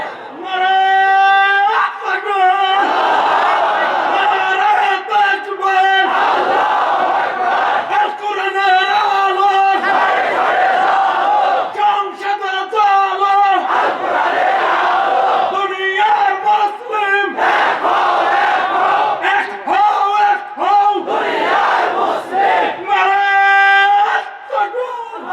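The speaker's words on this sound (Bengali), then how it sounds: "সুন্দর তাকবীর দিছে আমার ভাই" A large crowd at an outdoor religious sermon shouts takbir, Allahu Akbar, in loud repeated chanted bursts, answering a leading voice in a steady call-and-response rhythm.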